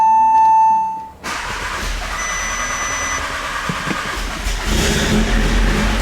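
A straight-piped Audi S3 cranks and catches after a brief tonal beep, then settles into a loud, raw, rumbling exhaust with a rising rev and a squealing edge toward the end, close by.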